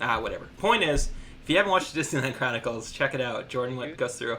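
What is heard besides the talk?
No distinct noise like a dog, phone or traffic.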